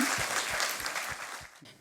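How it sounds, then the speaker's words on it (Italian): An audience at a public event in Fonni applauds for a guest speaker. The clapping is dense and moderately loud and fades slightly toward the end, with no talking over it. "Quindi un applauso per Dolores Turchi."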